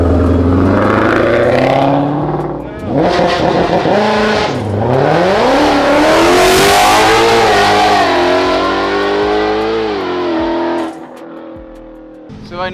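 A Lamborghini Huracan STO and a 1000 HP Mustang Shelby GT500 rev and accelerate hard on a drag race trial run. The engine note is loud and close, climbing and falling in pitch before cutting off near the end.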